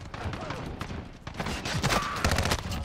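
Snakeshot guns firing in an online shooter video game, a rapid run of sharp shots with close bursts over continuous game noise, overlapping one another across the stretch.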